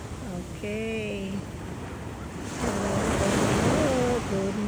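Sea waves wash and roll at a beach, a broad steady surf swelling louder midway, with wind buffeting the microphone and voices talking over it.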